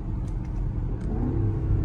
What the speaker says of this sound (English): but the cracks and pops are real.